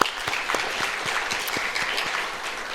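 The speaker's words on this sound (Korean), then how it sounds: "우리 주님께 영광의 박수 올려드리겠습니다." A church congregation claps together at a Friday evening service, a steady dense patter of many hands with sharp individual claps standing out, no voices over it.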